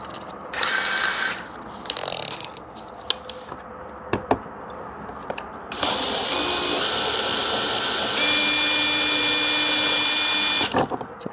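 A hand ratchet clicks in quick bursts while removing a long screw from the center cup holder of a Pontiac Solstice, followed by a sustained ratcheting or whirring mechanical run, close-up with no talking.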